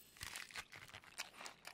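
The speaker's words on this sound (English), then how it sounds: "Man, that chewing sound" Crunchy biting and chewing from a creature in the underwater video game Subnautica, a series of close, irregular crunches over roughly two seconds with no talking.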